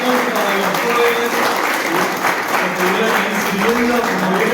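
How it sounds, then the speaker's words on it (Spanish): Public and youth audience applauding at a gathering, dense clapping held under a faint murmur of voices, steady and continuous the whole way through. "Un aplauso para el público, un aplauso para los jóvenes"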